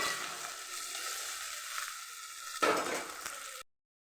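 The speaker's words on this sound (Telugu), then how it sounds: "ఇప్పుడైతే బంగాళదుంపలు వేసేస్తున్నాను. బాగా ఫ్రై అవ్వాలి" Potato pieces frying in hot oil in a pan, a dense, even sizzle close by that swells with a brief burst of scraping or stirring, then cuts off abruptly into silence.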